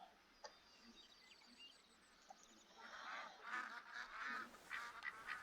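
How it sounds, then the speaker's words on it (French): Mallard ducks quack in a hunting scene from the video game The Hunter Call of the Wild, faint and distant at first, then a cluster of honking quacks grows louder toward the end. "il se peut que vous entendiez comme cela, coin. Ça veut dire que les canards, ils sont déjà arrivés."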